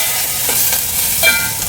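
Garlic and cashews fry in a pan, a close, continuous sizzle with light stirring and small crackling pops.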